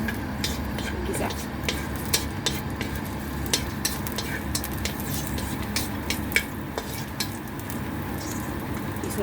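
Garlic sautéing in a cooking pan for chicken tinola, a steady hiss of frying under scattered clinks and scrapes of a stirring utensil against the pan.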